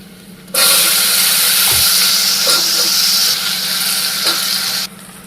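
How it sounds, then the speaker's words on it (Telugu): Eggplant pieces hit hot oil with turmeric already in the pan, setting off a sudden loud, steady sizzle that holds for about four seconds with a few stirring clinks, then drops back to a quieter fry. "ఇందులోనే వంకాయ ముక్కలు కూడా వేసుకుందాం"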